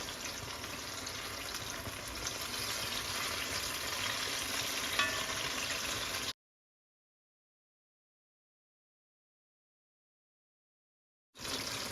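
Banana fritters (pazham pori) in batter bubble and sizzle in hot oil, a steady dense crackle that runs for about six seconds, cuts to silence, then returns briefly at the end.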